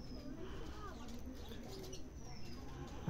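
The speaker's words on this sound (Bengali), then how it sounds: "এই হচ্ছে সাহারানপুরি নাপ্তার বাচ্চাটা" A young Saharanpuri napta pigeon chick gives faint, soft cooing and chirping calls close by, quiet against low background noise and a nearby voice.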